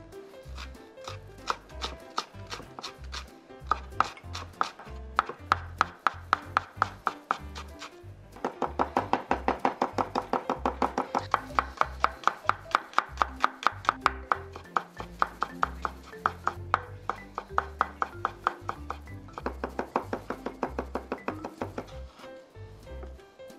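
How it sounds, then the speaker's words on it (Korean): Green onion and garlic being finely minced with a knife on a cutting board, a fast steady rhythm of close, crisp chops that speeds up in the middle stretch with no talking. "제일 먼저 대파 마늘을 곱게 다져줄 건데요"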